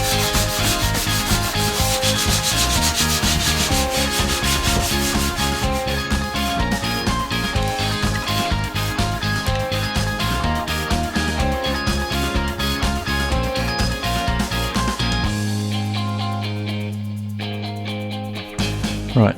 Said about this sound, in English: little gentle sand on some of this filler that Danny's put on